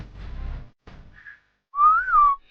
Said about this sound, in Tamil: வர வரைக்கும் நீங்க விசில் அடிக்கலாம்.